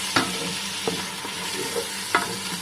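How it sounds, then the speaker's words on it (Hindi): Ginger garlic paste frying in a pan for a spinach and mutton saag, with a steady close sizzle and a few sharp scrapes of a spoon stirring. "add ginger garlic paste and cook 1 minute till ginger garlic smells more"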